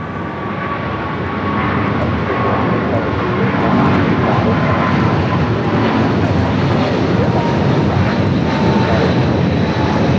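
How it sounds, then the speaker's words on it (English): A Boeing 777 jet airliner at LAX roars steadily and loudly, building slightly over several seconds and holding a broad, sustained engine rumble. "Flight 787 flying on a Boeing 777 going back to Houston."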